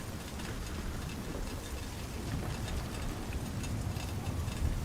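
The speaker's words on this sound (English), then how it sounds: "Is that the sound of the rain hitting my armor?" Rain patters on armor in the video game Dragon Age Veilguard, a quiet, continuous, soft drizzle with faint scattered taps, heard alone.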